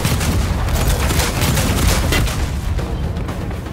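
Dense, rapid gunfire from a firefight in the video game Gears 5, a loud continuous barrage of shots and booms that eases slightly toward the end, with no talking.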